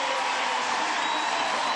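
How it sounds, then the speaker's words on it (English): A steady, full roar from the home crowd in a basketball arena during Game 1 of the 2010 WNBA Finals, Atlanta Dream at Seattle Storm, a dense sustained wash of cheering noise for a couple of seconds. "Crowd back into it."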